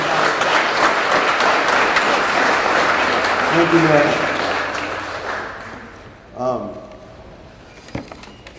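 Audience applause at a Purple Heart Day ceremony in Lawrence rolls loudly for several seconds, then fades as someone briefly speaks over the dying claps.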